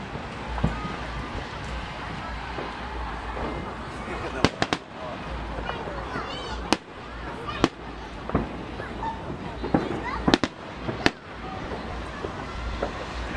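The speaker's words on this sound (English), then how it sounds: "This right here, my brother, is what I call a real fireworks show." A large Fourth of July fireworks show at an outdoor ballpark in 2013 fills the air with sharp booming bursts at irregular intervals over a constant crackling rumble. Voices talk and react nearby.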